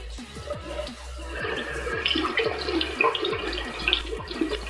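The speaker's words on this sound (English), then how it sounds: "So what you want to do is just run some water." Tap water runs steadily into a sink for rinsing beauty blender makeup sponges, a continuous close splashing stream with small gurgles and no talking.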